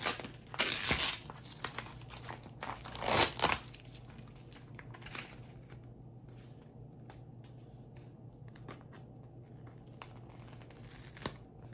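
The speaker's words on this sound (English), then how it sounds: "you just take your weeding tool and you just pull it back" Vinyl is peeled back from a shirt design with a weeding tool: a few crinkly tearing bursts near the start, then faint scattered scratches and ticks over quiet background, close up with no talking.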